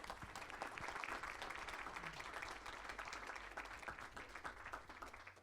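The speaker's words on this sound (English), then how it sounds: "please give a big round of applause for them" Sustained audience applause for honorees at a women's leadership awards ceremony, a fairly soft, even wash of many hands clapping throughout, with no speech.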